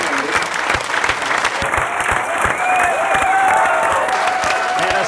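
Applause and cheering from a standing poker tournament crowd at Binion's in Las Vegas, a steady dense wash of clapping that stays loud and sustained throughout, with a few whistles rising above it.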